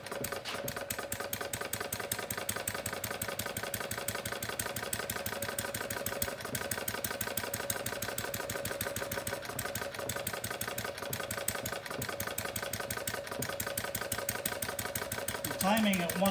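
A small single-cylinder engine idles at steady rhythm with its vacuum-operated intake valve and timing lever set near one o'clock, ticking evenly and close by for the whole stretch while someone talks over it.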